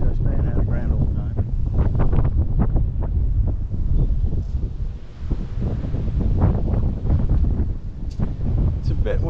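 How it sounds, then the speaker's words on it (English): Strong gusts buffet the microphone in loud, uneven rumbling bursts outdoors at the Shipwreck Museum in Key West, with faint voices and ambient noise mixed underneath. "It's a bit windy today."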